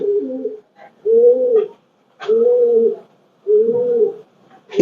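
Pathan pigeons coo in a loft, four distinct deep, rolling coo phrases separated by short silences, close and clear with a brief sharp click at the end.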